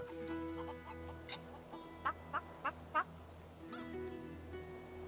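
Chickens in the video game Divinity Original Sin 2 give a few short, separate clucks over a steady background of ambient music and game sound.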